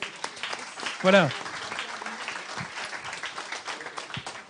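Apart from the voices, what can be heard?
audience applause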